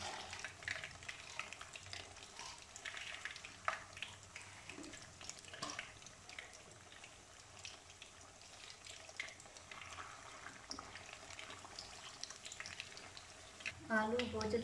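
Potato chips fry in a pan with a faint, continuous sizzle and crackle over low background noise, with a brief clatter near the end.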